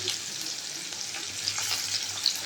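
Chopped onion frying in oil with whole garam masala gives a steady close sizzle with a faint bubbling crackle, heard alone without talk.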